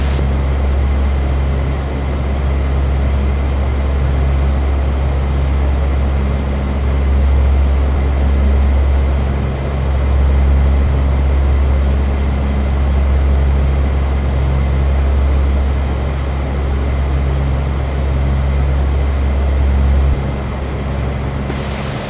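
A C-130 transport aircraft rolling down the runway in a flight simulation game, a loud, steady engine drone with deep low rumble that continues unbroken, shifting slightly near the end.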